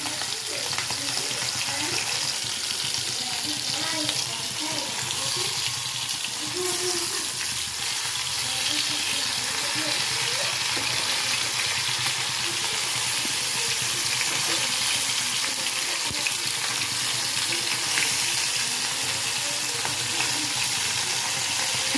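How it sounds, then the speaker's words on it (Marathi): Semolina-coated bangda mackerel frying in hot oil, giving a steady, dense sizzle that runs unbroken and fairly close throughout, with no talking. "आपण दुसरी पण मच्छी रवा लावलेली पण तळून घेऊया"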